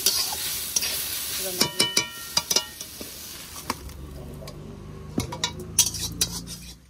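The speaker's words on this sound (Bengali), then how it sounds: "শাক ভাজা হয়ে গেছে" Leafy greens (saag) fry in a pan with a steady sizzle, broken by sharp clinks and scrapes as a utensil stirs against the metal.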